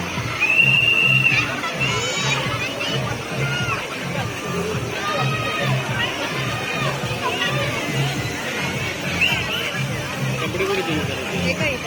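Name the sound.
crowd at a water park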